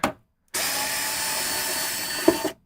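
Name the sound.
removing screws while taking apart a vintage vMix GO+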